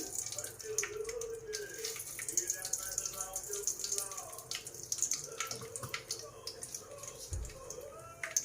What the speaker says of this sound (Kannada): ಇವಾಗ ಸಾಸಿವೆ ಹಾಕೋತೀನಿ